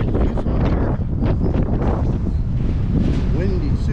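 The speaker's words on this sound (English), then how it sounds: "Windy, super windy." Strong, gusty wind buffets the microphone at an old mining town in Nelson, Nevada, overlooking Lake Mead, a loud continuous roar with broadband rumble throughout.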